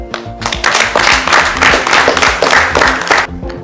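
Audience at an entrepreneurship summit in Benin clapping for itself, with loud, busy applause mixed with music or voices underneath, starting and stopping abruptly within a few seconds.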